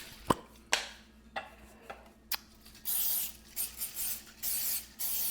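Wilton donut pans coated with cooking spray: a few sharp taps and clicks, then several short hissing spray bursts in quick succession, close and fairly quiet with no talking.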